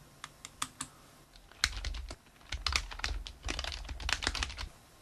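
Quick keystrokes clatter on a computer keyboard, starting as a few sparse taps and speeding into steady, close typing for several seconds with no one speaking.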